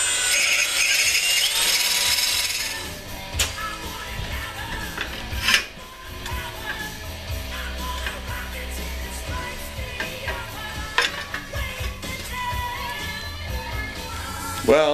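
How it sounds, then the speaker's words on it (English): Power tool work while steel rivets fasten skis onto a homemade trike: a loud whirring burst, then clanks and sharp metallic knocks scattered over a low mechanical hum, close by and without speech. "now we're just going to attach them with steel rivets"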